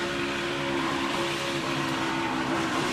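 Joey Logano's Ford NASCAR race car at the Daytona 500, heard from the onboard camera as a loud, steady engine drone with a sustained high-revving tone that holds evenly throughout.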